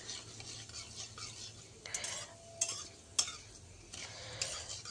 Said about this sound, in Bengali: পাঁচফোড়নগুলা ভাজা হচ্ছে, যেহেতু পাঁচফোড়নের মধ্যে মেথি থাকে, তো ওই জন্য একটু সময় নিয়ে ভাজতে হবে।